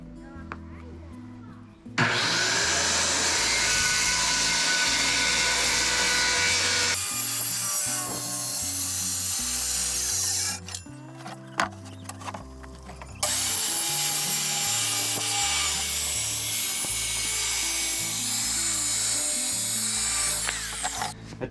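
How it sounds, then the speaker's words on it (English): A jigsaw cuts reclaimed lumber for a chicken coop with a loud, close, rasping buzz that runs in long stretches, stopping briefly twice before starting again. "you can follow the jigsaw all the way down"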